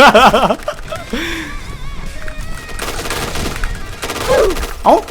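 Gunfire in the online shooter Point Blank: bursts of rapid shots crackle through the clip, loud and close, overlapping with excited game voices and a player's chatter.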